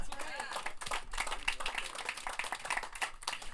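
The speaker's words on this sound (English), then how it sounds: "We can clap for that." A rally crowd in Clarence, New York claps in a steady dense patter that runs throughout, mixed with a speaker's voice over the applause.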